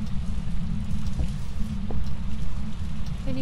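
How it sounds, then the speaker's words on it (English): Rain pours steadily with a deep rumbling thunder-like roar underneath, a continuous loud wash with no voices and a couple of faint brief tones. "Is thunder a sign?"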